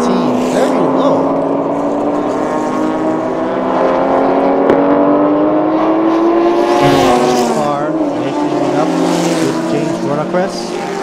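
Two Mazda RX-7 race cars run side by side at Chang International Circuit, engines roaring loud and sustained with rising and falling revs as they pass, under a commentator's voice.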